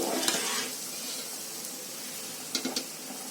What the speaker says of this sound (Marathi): आता मी भातावर आहे ना जरा काविलता मारून घेते